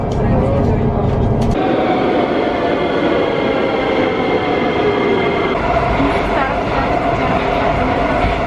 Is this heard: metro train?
yes